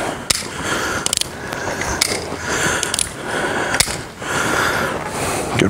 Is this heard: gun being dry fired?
yes